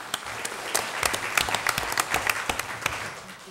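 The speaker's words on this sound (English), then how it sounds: "Let's have another round of applause for them." A round of applause for students at a school board meeting, with many hands clapping in a lively, uneven patter, some claps standing out close by, tapering slightly toward the end.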